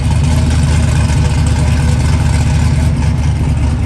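A Pro Charged Trans Am's engine runs with the exhaust cutout open, a loud, close, throaty and choppy rumble that stays steady throughout.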